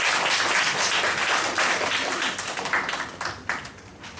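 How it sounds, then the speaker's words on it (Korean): A church congregation breaks into dense, sustained applause to welcome a woman coming forward to give her baptism testimony during a Sunday service, the clapping strong at first and then thinning gradually. "우리 박수로 맞이하도록 하겠습니다"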